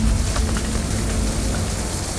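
Steady rain pours down in a dense, even hiss with a low rumble underneath, continuous and fairly loud throughout, with no voices.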